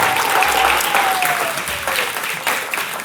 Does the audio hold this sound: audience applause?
yes